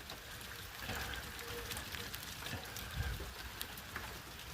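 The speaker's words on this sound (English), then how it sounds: "It is raining in Oconee County, South Carolina" Rain falls outside a cabin in Oconee County, South Carolina, on a February day. It makes a steady, soft wash of drops and patters with occasional closer taps and drips, and no voices are heard.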